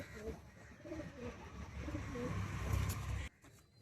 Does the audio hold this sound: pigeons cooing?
yes